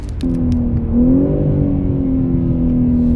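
A BMW M3 G80 engine revs and holds a deep, throaty drone, rising slightly in pitch then settling into a steady loud hum up close.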